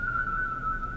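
A person whistles one steady, sustained high note, clear and close, with no talking over it.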